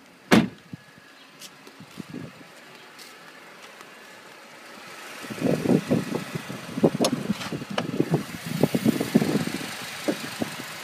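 A 2013 Mercedes-Benz E250 coupé with a performance-upgraded 1.8 liter four-cylinder turbo engine idles with the hood open, a sharp click at the start, then a close, steady rumble with knocking pulses growing louder midway.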